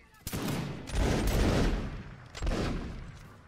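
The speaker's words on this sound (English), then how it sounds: "Nice volley, guys." A line of musket-armed soldiers fires a volley during a multiplayer line battle in the M&M video game. Several ragged, crackling waves of gunfire roll out close together, loud and booming, with faint voices underneath.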